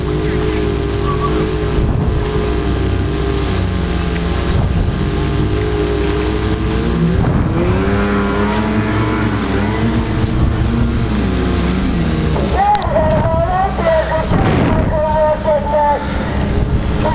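A patrol boat's motorboat engine drones steadily throughout, its pitch rising and falling as it passes, with wind noise and some voices in the background.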